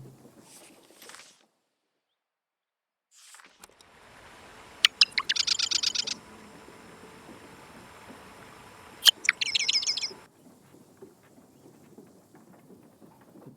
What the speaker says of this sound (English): The birds around here are thieves.